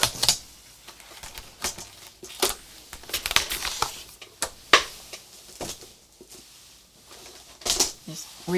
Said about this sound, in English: So we're going to just cut this down.